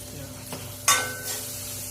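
Asafoetida powder dropped into a hot kadhai of oil with the flame turned low, giving a sudden loud sizzle burst after quiet stirring, then a hissing fade and a smaller second crackle.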